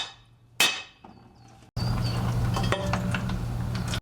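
Metal hammer blows knock a differential cover loose on a Jeep front axle (a 307 axle that has been opened before): one sharp early strike, then a long, loud stretch of ringing metallic banging and scraping, close and with no talk.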